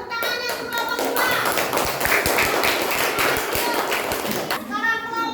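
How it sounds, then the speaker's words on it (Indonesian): A primary-school class of young children claps together for a group, a dense, steady patter of many hands close by, with children's voices mixed in throughout and the applause thinning near the end. "Tepuk tangannya untuk kelompok 2."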